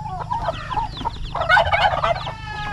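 Several chickens cluck and squawk close by in a busy flurry, with a brief louder burst of calls midway.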